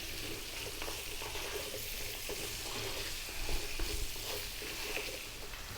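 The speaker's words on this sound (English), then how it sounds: "you want to fry these quite gently for about 5 to 6 minutes, stirring often" Beetroot fries gently over medium heat in a pan for an Ethiopian beetroot and potato dish, giving a soft, steady sizzle with light scraping from frequent stirring and a slightly busier patch midway.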